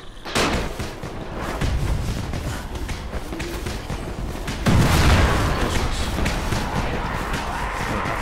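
A burst of booming and crackling gunfire-like blasts from an explosion in the video game Dying Light, with a heavier thud near the middle, mixed over steady game noise with no voices.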